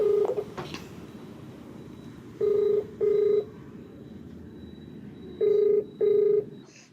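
Telephone keypad tones sound in two quick pairs of steady beeps with short gaps between them, clear and alone over faint background hiss, as a call is dialed.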